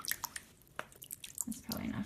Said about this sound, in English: I just kind of drizzle it in.